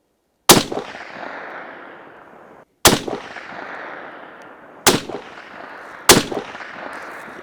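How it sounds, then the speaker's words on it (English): Four loud, close rifle shots fired downrange at a distant target at an outdoor range, evenly spaced about two seconds apart, each sharp crack followed by a long rolling echo, with no talk. "So we're gonna send a few more rounds downrange."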